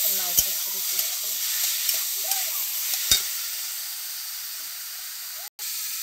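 Bottle gourd curry (lau chorchori) fries in a pan with a steady, close hiss and sizzle, with occasional scrapes and taps of a spoon stirring through it.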